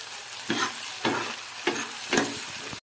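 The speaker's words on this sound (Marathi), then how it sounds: "आधी मी कांदा टाकलेला आहे, त्याला चांगलं असं परतून घ्यायचं" Onion sautés in a hot pan under a steady sizzle, with four rhythmic scraping stirs about half a second apart, close and loud, cutting off abruptly at the end.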